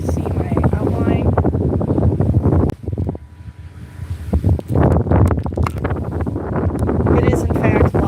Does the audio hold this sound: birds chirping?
no